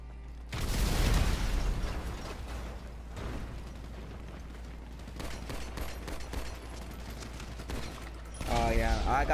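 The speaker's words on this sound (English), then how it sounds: "I use this little pistol." Gunfire in GTA 5 Online team deathmatch: a dense run of loud shots and bursts that starts suddenly and continues for several seconds, followed by further pops, with a voice briefly heard near the end.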